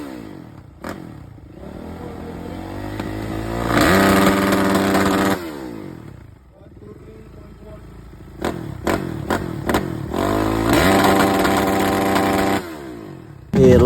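Modified motorcycle or scooter with a loud aftermarket exhaust pipe at a car and riders meet, revving hard in two long, loud bursts separated by choppy blips and an uneven idle, close to the listener.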